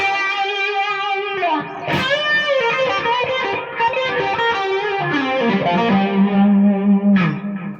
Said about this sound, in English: It's got a little bit of a wah-wah feel to it, hasn't it?